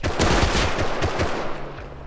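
Rapid automatic gunfire in a first-person shooter game, a dense, loud burst of overlapping shots that rattles on without pause for about two seconds.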